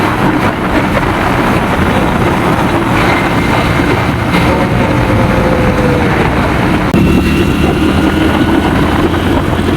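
A train rushes past on a ride from Arambagh toward Ayodhya in Purulia, a loud, continuous, roaring rumble with clattering that holds steady for about ten seconds.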